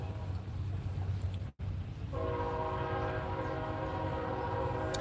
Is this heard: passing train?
yes